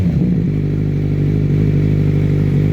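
A 2014 Kawasaki Z1000 motorcycle engine runs loud and close, a steady deep idle-like throb with a faint mechanical clatter and a slight rise in revs, with no talk over it.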